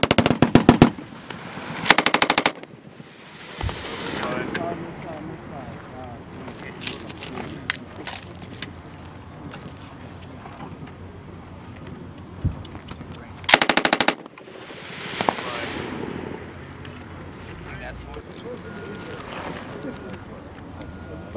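A US military Mk 19 grenade launcher fires bursts of eight rounds as sharp, loud, rapid thumps that come in separate clusters. Outdoor noise and scattered talk fill the gaps between bursts.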